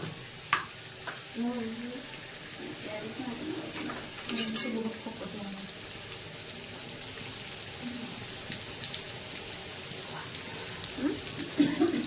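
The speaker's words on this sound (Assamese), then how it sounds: "তেলখিনি গৰম হোৱাৰ পাছত এবাৰ পিঁয়াজ দি দিছোঁ। পিঁয়াজটো দি অলপ লৰাই ল'ম।" Onions fry in hot oil while being stirred, a moderate crackling sizzle broken by repeated scraping and clattering of the spoon against the pan, with a faint voice in the background at times.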